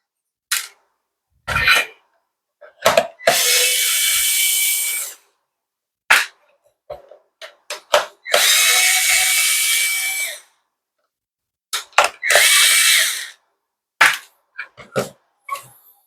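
A power screwdriver backs Phillips screws out of a Dyson V10/V11 cordless vacuum, giving several loud whirring bursts of a few seconds each between short clicks and taps, without talking.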